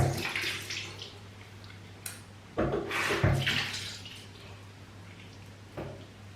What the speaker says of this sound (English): So first I will wet my face.